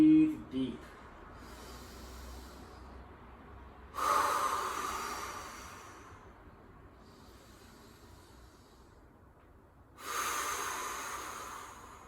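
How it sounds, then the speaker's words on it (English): Two long, deep breaths taken while standing on one leg in an exercise, loud and close, separated by quiet stretches with no speech. "And breathe deep."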